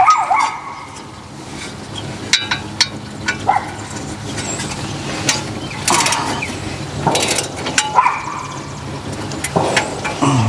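Ratchet working on fan bolts of a Ford F600 truck during a water pump job, with clicking bursts and metallic clanks in a busy workshop while a dog barks intermittently nearby.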